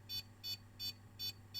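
A Microset PCS 140 switching power supply gives a short-circuit warning: five evenly spaced high electronic beeps, each about a tenth of a second, repeating steadily over a low mains hum at the bench.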